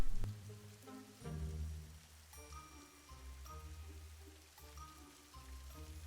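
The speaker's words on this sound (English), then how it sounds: "Now it's raining, so we can't go." Rain patters steadily on a surface, a soft continuous spatter with faint tonal tinkles over it, fairly quiet and with no voices.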